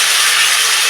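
Diced potatoes dropped into hot fish oil in a pan, giving a loud, steady broadband sizzle that stays close and unbroken, with no voices.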